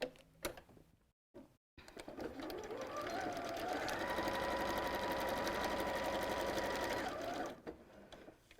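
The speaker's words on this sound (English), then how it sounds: "we're going to open this up and sew straight across to make the base square" A sewing machine stitches straight across the base of a pleated fabric bag, running in one close, steady burst of several seconds after a few clicks and handling noises.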